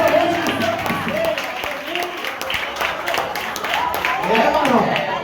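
A church congregation claps along during an evening Communion service, a steady mass of applause and rhythmic clapping from many hands, with voices talking and calling out over it.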